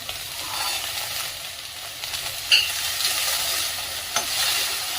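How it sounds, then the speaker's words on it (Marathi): Mixed vegetables, including green beans, potato chunks and peas, sizzle steadily as they are sautéed and stirred in a pan, a continuous frying hiss with a couple of brief scraping accents and no talking. "सर्व भाज्या असं छान असं परतून घ्यायचे आपल्याला"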